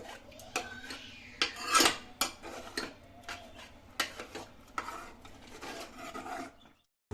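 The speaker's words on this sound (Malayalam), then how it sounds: "ഇതിന് നമുക്ക് തവി കൊണ്ട് നല്ലവണ്ണം ഉടയ്ക്കണം" A ladle mashes cooked carrots, beans, onions and potatoes in a pot, making repeated close scraping, knocking and squelching strokes in an uneven rhythm.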